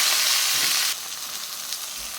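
Nigella seeds are tipped into hot oil in a pan where fish has been frying. A loud hissing sizzle bursts out for just under a second, then settles to a quieter crackle.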